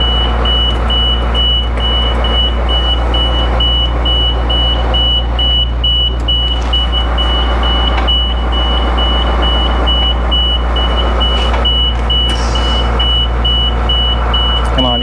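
An old school bus emits a continuous reversing beep at a steady rhythm over a loud, close engine rumble throughout.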